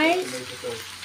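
Pork for afritada going into a hot pan, giving a brief close sizzle and crackle of meat frying, with a voice over it.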